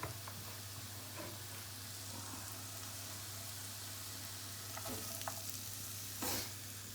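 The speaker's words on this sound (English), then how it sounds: "you'll be able to hear it sizzling when you put that in" Food sizzles steadily in a hot pan, a soft continuous crackle with a few brief stirring scrapes near the end.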